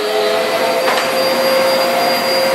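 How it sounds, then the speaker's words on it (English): A vacuum cleaner drones loudly and continuously nearby, a steady whining motor hum with no voices. "Vacuum cleaner. This is unnatural."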